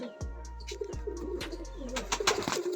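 Pigeons in a high-flying pigeon loft give repeated low, throaty coos in three rolling bursts, close and clear, with some faint chirps and rustling around them.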